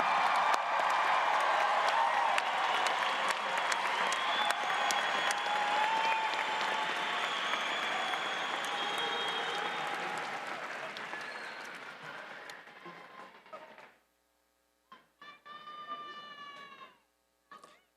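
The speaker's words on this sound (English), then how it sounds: "Let's give our graduates another round of applause." Graduates at a December commencement ceremony receive a long round of applause from a large audience, dense clapping that gradually fades out, followed by brief quiet and a few faint voice-like sounds near the end.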